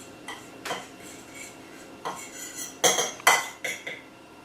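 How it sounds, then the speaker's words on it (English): Seasoned flour with salt, pepper and onion powder being stirred in a dish, heard as a handful of scraping, clinking utensil strokes in an irregular rhythm, close and fairly quiet, growing louder toward the end. "Stir it up a little bit."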